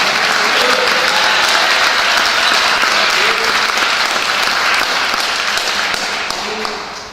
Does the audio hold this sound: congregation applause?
yes